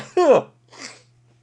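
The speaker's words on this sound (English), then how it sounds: "Sneeze!" A single voiced sneeze, a sharp rising burst followed by a softer breathy release, close and dry, sounding like a person performing the sneeze.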